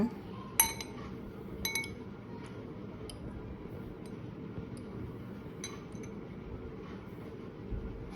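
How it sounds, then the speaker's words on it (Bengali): A fork clinks against a bowl while turning food in beaten egg, a few sharp metallic taps spaced over several seconds above a low background rumble. "এখন আমি ডিমের মধ্যে দেব কাঁটা চামচ দিয়ে এপিট ওপিট লাগাই নেব"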